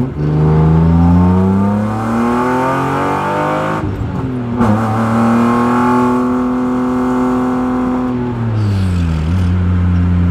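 A BMW E36 fitted with an M50 intake manifold drones loudly from inside the cabin while driving, the engine note holding steady, dipping briefly as the driver shifts, then climbing again, with no talk.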